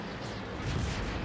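A howitzer shot in the World of Tanks video game, a single heavy low boom swelling and rumbling outward for about a second, alone without talk.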